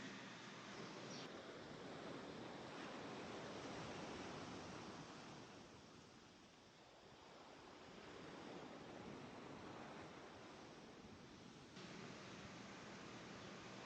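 Mediterranean Sea waves at sunset, a soft, steady wash of surf that gently swells and recedes, faint and continuous with no voices.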